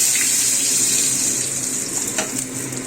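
Whole cumin seeds hiss in hot oil for a simple rui fish curry, giving a steady, dense sizzle with no pause and no voices.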